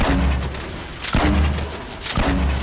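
A video game grenade launcher fires in three evenly spaced, loud thumping blasts, each followed by a short rumbling tail.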